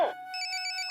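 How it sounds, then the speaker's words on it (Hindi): A mobile phone rings with a steady tone and a repeating pattern of bright, high double beeps. It is fairly quiet and close, with no talking over it. "अबे पंकज, तेरा फोन बज रहा है।"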